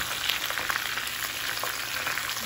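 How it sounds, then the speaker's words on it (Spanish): Tomato, onion and guajillo chile fry in a hot pan, a dense steady sizzle with small crackles and pops, close and continuous. "vamos a sofreír lo que es el tomate y la cebolla"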